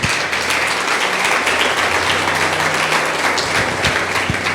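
A church congregation gives loud, sustained applause after a prayer, a dense wash of many hands clapping that continues evenly for several seconds.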